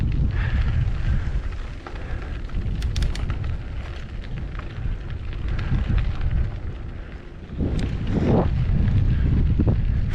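Heavy wind buffeting a microphone on a gravel bike ride while climbing a hill near Gainesville, Texas, a low roaring rumble that dips briefly and surges louder again near the end.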